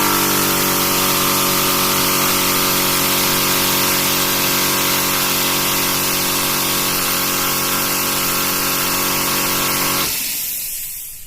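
A Thumper Max portable air compressor runs hard and steady with a dense mechanical drone and hum, pumping freely through its hose into open air, then abruptly cuts off near the end.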